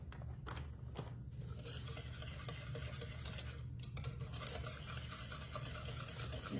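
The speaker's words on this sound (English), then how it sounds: "It says to whisk it until it's well blended." A whisk stirring lemon bar batter made with real lemons in a bowl, a soft continuous scraping and swishing with faint clinks against the side, quiet and close.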